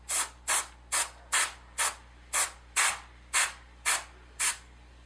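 An airbrush test-sprays orange marker ink in ten short, even hissing sprays in a steady rhythm, each a quick burst of air with a soft tail, close up over a low background hum.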